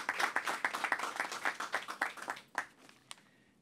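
Clapping from the audience at the opening of Aruba's 62nd Carnaval: a quick run of distinct, fairly close hand claps that thins out and fades to a few scattered claps.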